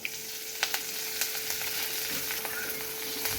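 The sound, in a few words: mustard seeds, cumin, curry leaves and chillies sizzling in oil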